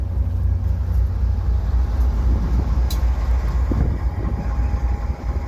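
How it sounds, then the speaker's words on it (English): VIA Rail LRC train with locomotives at Dorval station, a steady low diesel rumble and rolling drone filling the whole stretch, loud and continuous with no talk over it. "And there's the locomotives."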